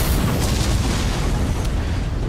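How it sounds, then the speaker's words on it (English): Remote explosives detonating in the video game DUST 514, a loud, sustained rumbling boom that fills the whole clip with dense low-end roar and no voices. "Objective and then I detonate."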